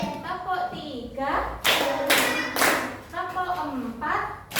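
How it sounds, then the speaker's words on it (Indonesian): A class of children claps in a counting rhythm, a few sharp bursts of group clapping between chanted voices calling out the count. "Ayo tepuk 1, tepuk 2, tepuk 3"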